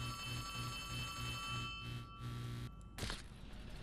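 An old-style telephone bell from the video game Poppy Playtime Chapter 3 rings in repeated short trills over a steady musical drone, then stops and a sharp clunk follows, with no talking.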